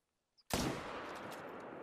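A .300 magnum hunting rifle fires once in theHunter: Call of the Wild at Layton Lake: a faint click, then a single sudden, powerful boom that rolls into a long, sustained echo.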